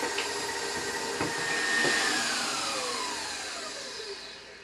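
Electric mixer beating softened butter, sugar, vanilla and eggs, a steady whirring hum whose pitch slides slowly as the load shifts, close and continuous with no talk.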